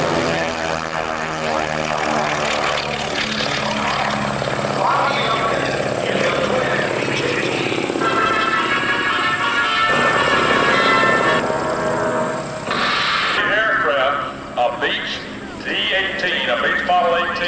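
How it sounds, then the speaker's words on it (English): A twin-engine Beech Model 18 propeller airplane flies at an airshow, its loud radial engine drone rising and shifting as it passes, while people talk nearby and an announcer speaks over the noise. "A Beech Model 18, the Twin Beech built by the Beechcraft Corporation."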